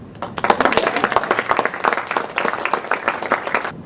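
A conference audience applauds after a paper presentation, many hands clapping densely and fairly close for a few seconds before it stops.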